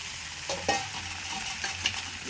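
Potatoes and carrots sizzle in a frying pan as a spoon stirs them, a continuous frying hiss with a few soft scraping strokes, close and moderately loud, no talking.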